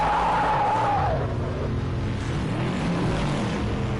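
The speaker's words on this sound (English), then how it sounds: "Oh, and the Bentley has spun." A Bentley GT3 race car in a racing video game spins out at the Algarve circuit, a loud engine note with a rising tire squeal that fades into a continuous roaring skid.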